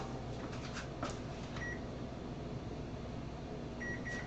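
A kitchen timer beeps in short, faint, high repeated tones over a steady hum of room noise, first a single pair of beeps and then a quick run of beeps near the end.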